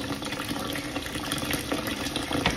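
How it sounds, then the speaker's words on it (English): Rinse water poured off wild bird seed being cleaned down to the millet, a steady close-up splashing, running pour with no talk. "Everything that's not millet, you want to pour that off."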